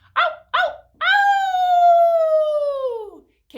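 A human voice imitates a wolf howl: two short yelping calls, then one long, sustained, slowly falling howl, loud and close with no other sound.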